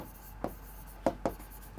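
Pen or marker writing on a lecture slide, three short scratchy strokes spaced apart against quiet room tone, with no talking.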